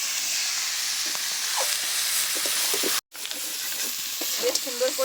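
Potatoes and chicken meat fry and are stirred in a pan, with a continuous loud sizzle and scattered scraping stir strokes and a brief cut midway.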